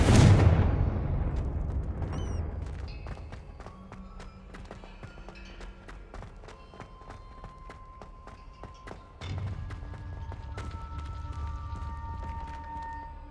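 A Confringo blasting spell in Hogwarts Legacy erupts in one loud, close explosion that rumbles and fades over several seconds, followed by quieter game clatter and a second low swell.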